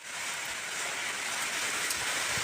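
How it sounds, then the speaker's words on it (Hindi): Rain driven by wind during Cyclone Biparjoy, a dense continuous hiss of falling water with steady gusty texture, close and fairly loud, no voices. "तो ये रहे काले घने बादल और हवाओं के साथ बारिश आ रही है।"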